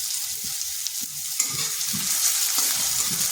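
Sliced onion and chopped green chili fry in a pan, a soft, steady sizzle with a few gentle stirring scrapes up close and no voices.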